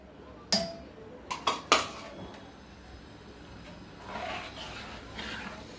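A metal spoon clinks sharply against a pot several times while stirring an oil-free chicken soup with finely chopped chicken, the clinks coming close together, then softer scraping and bubbling in a quiet kitchen.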